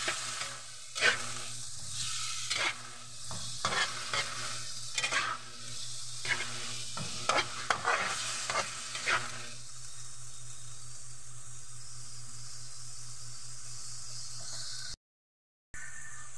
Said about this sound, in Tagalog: Haluin lang natin ng mabuti guys.